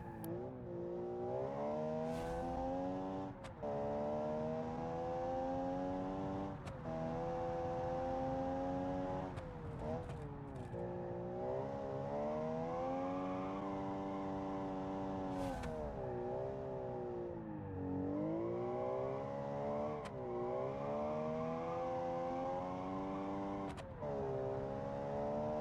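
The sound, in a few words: race car engine in a racing video game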